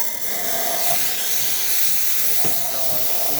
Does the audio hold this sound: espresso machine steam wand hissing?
yes